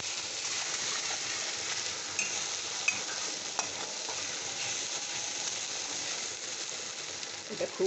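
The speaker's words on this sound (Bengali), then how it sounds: "আমি কষে নিচ্ছি" Spices for Bengali bhog khichuri sautéing in a pan with tomato and ginger paste, a steady soft sizzle with occasional scraping and stirring clinks, close and fairly quiet, no talking.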